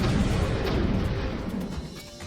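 Small nuclear warhead bombs exploding in the video game RimWorld, a loud, continuous rumbling barrage of booms and crashes, close and heavy, easing slightly toward the end.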